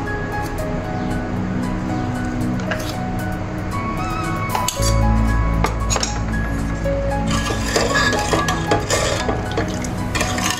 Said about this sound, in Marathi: तर इथे मी 3 चमचे साखर घालणार आहे।